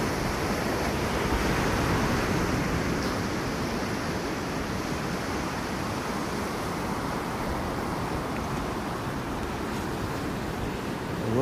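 Continuous broadband roar of ocean surf breaking on a beach in the morning, steady and fairly close throughout with a slight swell early on, no talking.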